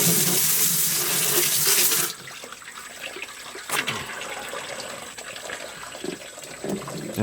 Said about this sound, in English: When you run the plucker, you want to run the water